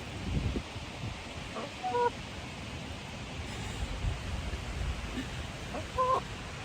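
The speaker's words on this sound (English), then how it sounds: "Hi, chicken. Look at yourself." A laying hen in a backyard garden clucks in short bursts a couple of times, fairly close, over a steady outdoor background.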